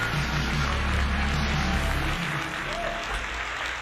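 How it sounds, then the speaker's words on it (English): Steady applause from an audience at a live retro gaming stream, a dense, continuous wash of clapping with a low hum beneath it. "So why don't you give yourselves a big round of applause."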